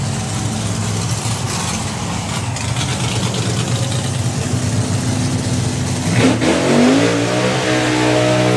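A supercharged drag racing car roars loudly through a burnout at the FIA Euro Finals 2024, a sustained heavy engine drone with a rising rev near the end.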